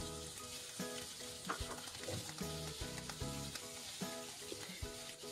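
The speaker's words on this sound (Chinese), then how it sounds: "再把腌好的虾仁也煎一下，" Marinated shrimp fry in oil in a flat pan, a close, continuous sizzle with rhythmic scraping and tapping of a spatula throughout.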